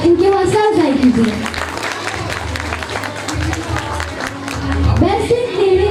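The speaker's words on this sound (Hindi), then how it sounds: "भरपूर तालियों के साथ इनकी हौसला अफजाई कीजिए।" Audience clapping for an award winner at a prep class school award ceremony, a steady dense patter of hands with crowd murmur and talk mixed in, fairly loud throughout.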